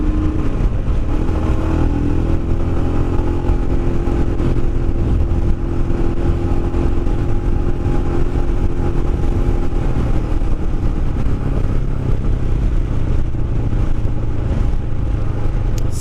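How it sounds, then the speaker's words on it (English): A Royal Enfield Himalayan motorcycle engine drones continuously at cruising speed, loud and close, with steady rumble and wind noise throughout. "maybe a little bit of an exhaust would improve its mighty roar"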